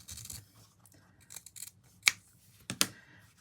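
Scissors snipping through quilt fabric along a diagonal line, several short crisp cuts at irregular spacing with a couple of sharper louder snips, close and alone.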